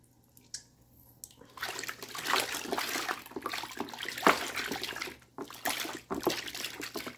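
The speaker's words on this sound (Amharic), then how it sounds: "አሁን ውሃ ጣል እያደረኩኝ አቁላልቸዋለሁኝ" Water pours and trickles into a pan of chicken being sautéed for Ethiopian alicha doro wat, a close, steady splashing stream that starts after a quiet moment and continues with brief pauses.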